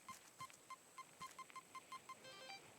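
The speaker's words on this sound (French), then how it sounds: "J'ai un truc à ramasser avec le détecteur de métaux." Rapid electronic beeps from a video game metal detector, a run of short tonal pips at a quickening, regular rhythm, fairly faint and with no voices over them.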